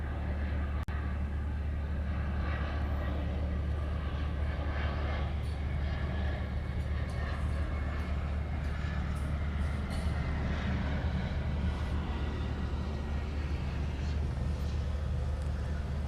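A Hawaiian Airlines Boeing 717 arriving at Honolulu from Kailua Kona makes a loud, continuous engine roar with a deep rumble that holds steady throughout.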